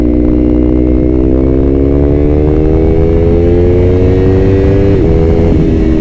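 A 2019 Yamaha R3 motorcycle engine runs loud and close, holding a steady rising drone with a brief dip and blip near the end.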